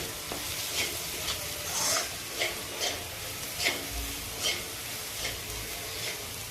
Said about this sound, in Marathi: आता हे सर्व मसाले मी एकदा चांगले परतवून घेते